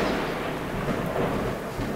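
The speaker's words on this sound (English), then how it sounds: "we are in the middle of a massive thunderstorm here" Rumbling thunder from a massive thunderstorm rolls on as a steady, loud broadband roar with no distinct crack, close by and heard alone.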